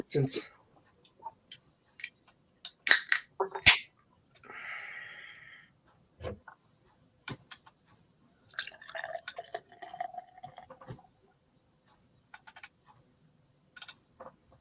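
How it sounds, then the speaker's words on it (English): Russian Imperial Stout poured into a glass, giving gurgling splashes followed by a longer stretch of crackling fizz as the foamy head rises. Brief voices come in around the pour. "So let's pour it in a glass."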